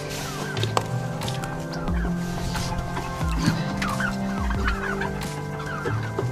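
A flock of young chickens chatters nearby, with a mix of clucks and higher peeping calls over a steady farmyard hum.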